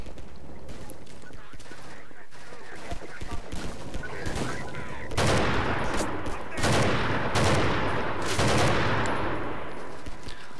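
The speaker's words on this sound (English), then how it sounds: "This gun seems to be sort of, you know, high-powered shot, but a lot of recoil." AK-47 gunfire in the Half-Life 2 Episode 2 mod Triage, bursts of rapid automatic shots with short gaps between them, loud and close, with some speech-like sound among them.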